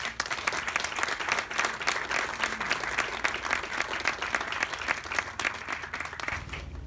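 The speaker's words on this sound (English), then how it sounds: "let's have a round of applause for the families and friends that have made this happen" Sustained applause from a commencement audience honoring graduates' families and friends, dense steady clapping filling the hall throughout, moderately distant with room reverberation.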